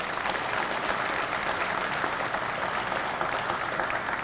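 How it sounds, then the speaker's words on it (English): Audience applause at an event announcing funding for the Hope Center, a dense, continuous wash of many hands clapping at an even level, with no break. "let's give them another round of applause"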